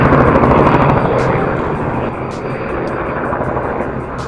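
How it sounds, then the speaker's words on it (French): A helicopter passes over a trekking area in Nepal, a loud broadband rotor and engine roar that is strongest at the start and eases slightly as it moves on, with no speech over it. "il y a l'hélico qui passe, on va attendre un petit peu"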